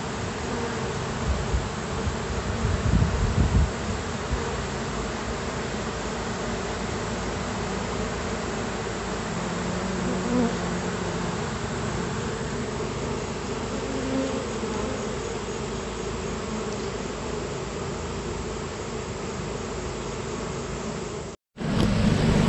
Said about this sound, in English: now I'm just kind of running all the bees out here until I can find the queen